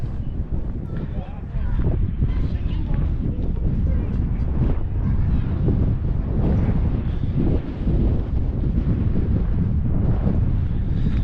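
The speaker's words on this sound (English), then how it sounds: "There's a breeze blowing, it's quite icy breeze, chilly." A cold, icy breeze blows over Morecambe Bay near the River Lune, rumbling steadily as wind buffets the microphone in a dense low roar throughout, with no gaps and no talk.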